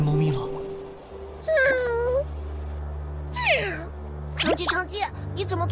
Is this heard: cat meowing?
yes